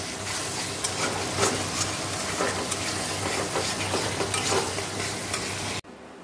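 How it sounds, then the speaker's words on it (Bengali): Fish curry with tomato is sautéed and stirred in a hot pan, giving a loud continuous sizzle with scraping strokes throughout, cut off abruptly near the end. "ভালো করে কষাচ্ছি।"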